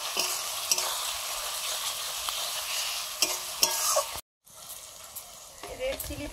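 Spice paste of ginger, turmeric and red chilli powder with a splash of water is fried and stirred for a country chicken curry, giving a steady close sizzle with scraping stirs and a brief pause, while someone talks over it.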